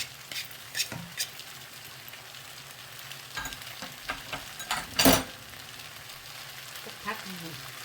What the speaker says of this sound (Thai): ใส่วุ้นเส้นจ้ะ ใส่ใบกะเพรา ผัดกับพริกสด